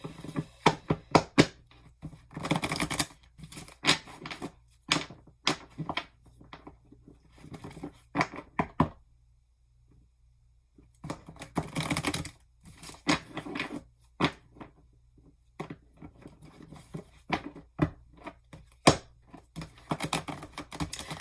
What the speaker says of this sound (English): Let me shuffle like this first.